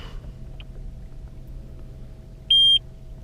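A Johnson 150-250 hp outboard engine runs its startup check: a tiny chirp, then one loud, steady electronic beep about a quarter second long, over a faint low steady hum.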